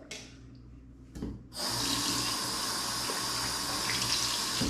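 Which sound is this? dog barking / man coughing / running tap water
running tap water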